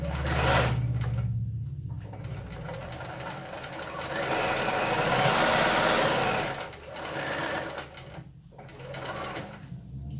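A sewing machine stitches a pencil case's lining to its outer fabric, running in steady whirring bursts with brief pauses between them, close up and without talk.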